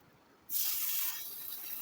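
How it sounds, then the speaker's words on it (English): Fish fillet hitting a hot pan that was just coated with cooking spray, giving a sudden loud, steady hiss that settles into a softer continuous sizzle, close up with no talking. "Sizzle, sizzle."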